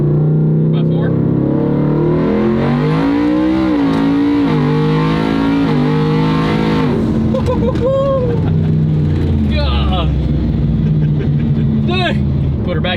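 A boosted 1700-horsepower four-wheel-drive truck accelerates hard, its engine note climbing in long rising sweeps before easing off, loud and close, with voices talking over parts of it.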